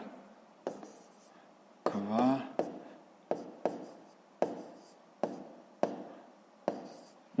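A pen or pencil writes a word on paper during a sixth-grade maths exercise: a close series of short, evenly spaced scratchy strokes, with a brief murmured voice near the start.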